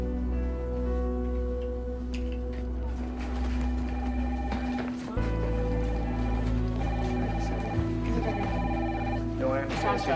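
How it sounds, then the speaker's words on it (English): Telephones ringing in a busy newspaper office, a dense layer of electronic ringing and trilling tones that continues under voices talking at once, with clicks and desk clatter mixed in. "Phones have been ringing all morning."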